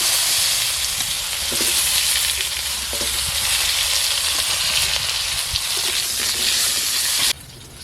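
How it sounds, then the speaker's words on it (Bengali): Potatoes frying in hot oil in a pan, a loud, dense, continuous sizzle and hiss close by that drops off abruptly near the end, with no talking. "আলুগুলোকে ভেজে নেব।"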